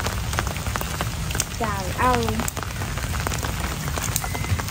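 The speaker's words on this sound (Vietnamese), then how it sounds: "Mưa hồi tối hôm qua tới giờ luôn, tới giờ vẫn còn mưa luôn." Steady rain falls outdoors in a rural setting, a dense continuous hiss with scattered drops throughout, and a brief exclamation from a person cuts through near the middle.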